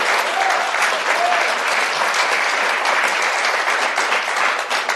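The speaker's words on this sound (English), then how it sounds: "Give yourself a round of applause" A live studio audience for a skeptics' podcast applauds in a sustained, even wash of clapping that stays loud and unbroken from start to finish.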